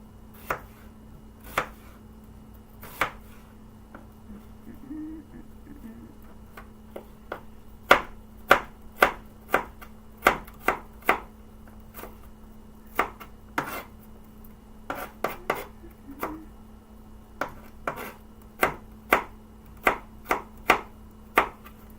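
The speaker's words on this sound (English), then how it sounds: "I would cut this right here and then just make sure that I have a flat end against the cutting board" A knife chops an onion on a cutting board in sharp, distinct knocks, sparse at first and then quicker in uneven runs, close up in a quiet kitchen with no voices.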